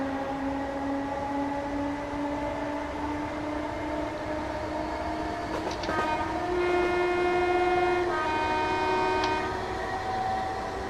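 Simulated electric Class 321 multiple-unit train on the Redditch to Longbridge route in Train Sim 2019, a steady motor whine rising in pitch as it accelerates, with a brief horn-like tone partway through, continuous and clear with no talking.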